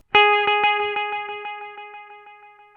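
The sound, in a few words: BOSS RE-2 Space Echo pedal echo with trails remaining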